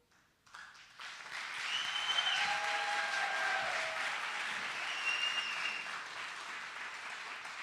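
Audience applause fills a hall at a university entrepreneurship competition, a steady roar of many hands clapping that swells after a second and holds loud and even throughout, with no talking over it.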